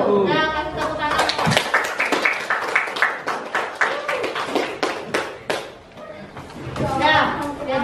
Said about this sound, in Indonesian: Nah, kasih tepuk tangan.